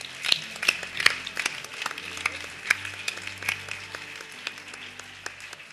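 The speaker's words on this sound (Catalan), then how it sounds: "Moltes gràcies, un aplaudiment." Fairly faint audience applause at a tribute event on a stage, a loose patter of individual claps from a modest crowd, uneven and sparse, continuing steadily without voices.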